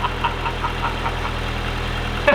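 A barn-find Gemini car engine runs steadily with heavy blow-by, giving a continuous low idling drone with a faint, regular knocking pulse, close and moderately loud throughout.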